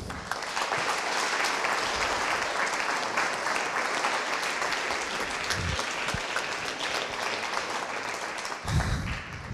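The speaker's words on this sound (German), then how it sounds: "Ich glaube, auch er hat einen Applaus verdient." Sustained applause from an audience at a culture award ceremony, dense and steady clapping filling the whole stretch, with a slightly louder swell near the end.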